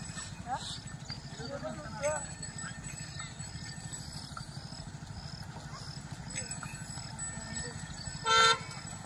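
A buffalo walks along with a steady rhythm of hoof clops close by, while people talk over it and a short horn toot sounds near the end.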